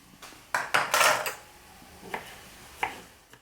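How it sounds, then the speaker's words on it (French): A knife cuts tomatoes into rounds on a board, a few close crisp slicing strokes bunched together, then two more isolated taps. "Je coupe mes tomates en rondelles."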